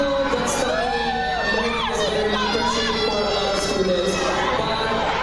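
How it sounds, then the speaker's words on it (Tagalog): A large crowd screaming and cheering loudly and continuously at an SB19 P-pop press conference, with high-pitched shrieks and whoops rising and falling throughout. "Grabe sigawan ka talaga kay Stel, oh. Wala na akong marinig."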